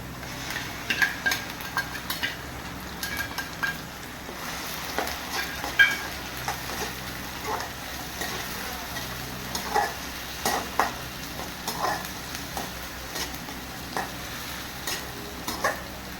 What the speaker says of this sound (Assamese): এইখিনি অলপ সময় ৰঙচুৱা হোৱাকৈ ভাজি ল'ম মই।